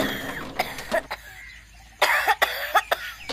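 A child with flu coughs: two bursts of dry, hacking coughs close by, a few quick coughs, a short quiet pause, then another cluster of harsher coughs.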